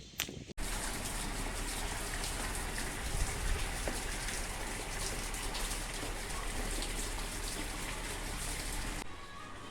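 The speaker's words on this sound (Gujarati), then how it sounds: "તો ઝીણો ઝીણો વરસાદ ચાલુ થઈ ગયો છે" A light drizzle falls in London, heard as a steady, even hiss of rain that holds at a constant level for nearly ten seconds.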